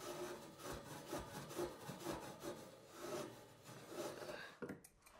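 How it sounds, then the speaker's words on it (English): Wire wool scrubs a copper pipe by hand to clean it after soldering a radiator valve fitting, giving close, rhythmic back-and-forth rasping strokes at an even pace that stop near the end. "clean the pipe with wire wool"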